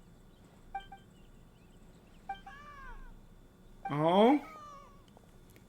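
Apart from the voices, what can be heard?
cat meowing in the video game Genshin Impact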